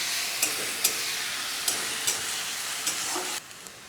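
Onion and ginger paste frying in a pan for chicken keema aloo dum, a steady broadband sizzle with light periodic scrapes of stirring, close and fairly loud, ending abruptly.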